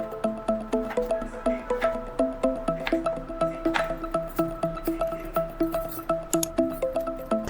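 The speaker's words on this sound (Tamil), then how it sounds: "தண்ணியில் நல்லா வாஷ் பண்ணி எடுத்து வச்சுக்கலாம்." Cut potato pieces being washed in water in a home kitchen, a string of regular bright clinks and wet knocks roughly every third of a second, close and moderately loud with no speech.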